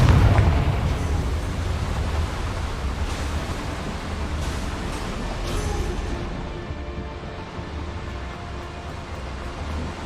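A Confringo fire spell explosion in Hogwarts Legacy, a heavy low blast at the start that rolls into a long, fading roar of rumbling debris and crackle.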